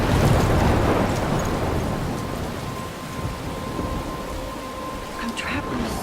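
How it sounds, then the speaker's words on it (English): A loud, dense storm from the video game Life Is Strange, with steady heavy rain and rolling thunder rumbling throughout and faint higher tones near the end. "I'm trapped in a storm."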